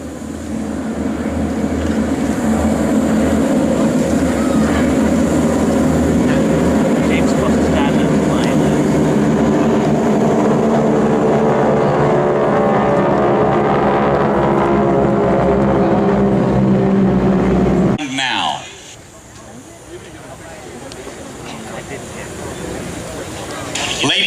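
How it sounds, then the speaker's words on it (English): Two flights of four 600-horsepower Texan aircraft at a V-E Day 70th anniversary flyover, a loud sustained propeller drone that swells and then fades abruptly, with an announcer talking over it. "Here come the Texans, the 600 horsepower, 2 flights of 4. Listen to the sound that they make as they go over."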